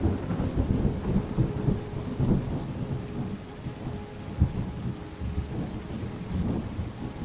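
In the video game Terra Nil, steady rain patters on surfaces while thunder rumbles through, a continuous stormy wash with no voices.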